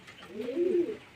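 A single pigeon gives a soft, low coo lasting about a second near a rooftop, faint and alone against quiet background.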